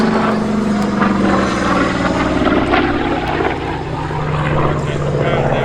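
A Curtiss Hawk 75 propeller fighter flies at the Duxford Battle of Britain airshow, its loud radial engine droning steadily throughout with a faint voice underneath.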